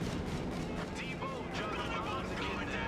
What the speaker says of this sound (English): Alright, so now we're going to go with the bombing run here.